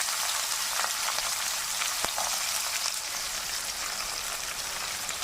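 Chopped onions, garlic and green chilies sizzle as they sauté in a pan of oil for a bitter gourd curry, a steady, crackling hiss with scattered pops and no voices.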